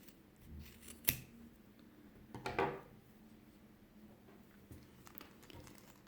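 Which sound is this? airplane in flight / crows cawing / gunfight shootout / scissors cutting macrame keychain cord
scissors cutting macrame keychain cord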